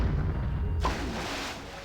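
A cannon fires in Donkey Kong 64 on the N64: a single booming blast cuts in after a low rumbling background, leaving a wide, hissing tail that slowly fades.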